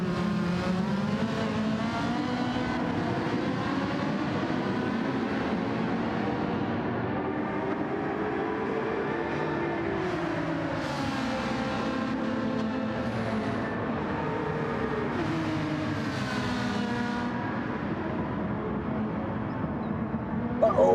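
Race cars including a Peugeot lapping Suzuka circuit in a racing video game, engines droning and rising and falling in pitch through gear changes, steady and loud for the whole stretch, with no voices over them.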